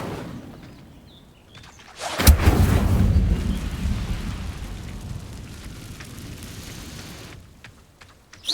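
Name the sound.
Incendio fire spell cast in Hogwarts Legacy video game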